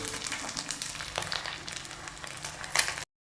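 Dry fish fries in a pan for a fish aviyal, giving a steady, close crackling sizzle with small pops that cuts off abruptly near the end.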